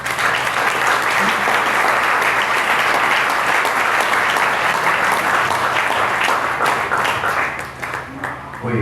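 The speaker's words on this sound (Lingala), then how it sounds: "Si on peut acclamer pour le Seigneur." A church congregation applauds loudly and continuously at an Easter Sunday service. The dense, even clapping holds steady throughout and eases slightly near the end.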